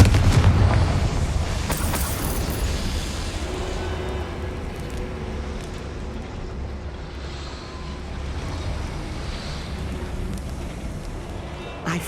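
A Confringo fire spell goes off in Hogwarts Legacy, giving a dull booming burst that rumbles loudly at the start and then fades into a steady low background roar.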